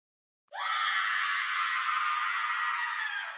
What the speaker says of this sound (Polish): Słyszycie krzyk.